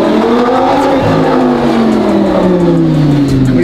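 Lamborghini fitted with a $10,000 aftermarket exhaust revving hard up close, a loud continuous raspy roar with engine pitch climbing and dipping steadily, no voices over it.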